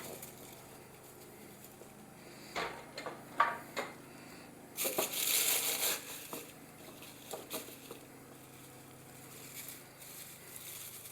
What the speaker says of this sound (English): put herbs in here and then push them on down into the jar when you get it kind of full